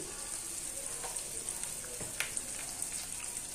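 Banana flower frying with ground cumin, coriander and turmeric in a pan: a steady, fairly close sizzle with a faint crackle of scattered pops, no voices.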